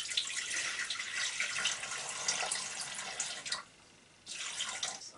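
Water runs steadily into a Thermomix TM31 mixing bowl for bread-roll dough, a bright splashing stream that briefly stops and then resumes, with no talking.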